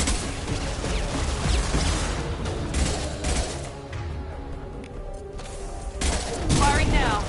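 Gunfire crackles through a Mass Effect 2 firefight, a continuous spread of shots and impacts over about seven seconds with a few louder bursts, while a voice speaks over the battle noise.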